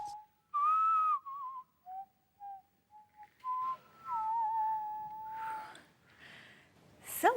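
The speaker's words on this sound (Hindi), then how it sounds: "किसने बजाई सीटी?" A human whistle, played as a scene sound effect in a CID crime drama, sounds in a series of short and sustained tones with gaps between them, clear and fairly close, with a few soft noises and a brief breath-like snort near the end.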